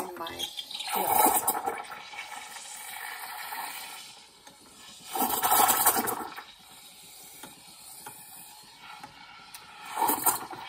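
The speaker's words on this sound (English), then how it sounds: "the milk is being heated up, being steamed" A home espresso machine's steam wand heats milk for a latte, giving repeated loud hissing, gurgling bursts that swell and fade in three waves over a quieter mechanical hum.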